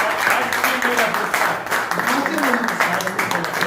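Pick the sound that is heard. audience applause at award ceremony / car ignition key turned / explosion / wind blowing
audience applause at award ceremony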